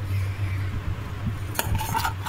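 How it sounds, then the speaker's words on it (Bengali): Crispy fried chicken pakoras being stirred in a bowl, giving a few close clinks and rattles of utensil on bowl, with a brief louder burst of crunchy scraping toward the end. "আওয়াজটা শুনতে পাচ্ছেন, খুলতে দিয়ে যখন নাড়ছি কি মচমচে হয়েছে"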